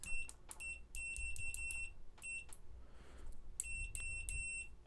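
Short high electronic beeps from a KAIWEETS KC 602 clamp meter in continuity mode, chirping in quick irregular bursts and clusters, faint and close against a low background hum.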